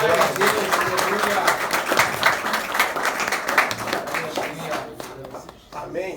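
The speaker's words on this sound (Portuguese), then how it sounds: "Aleluia, aplaude o Senhor" A church congregation claps together in steady, dense applause that fills the space, with voices mixed in beneath the clapping, before it thins out near the end.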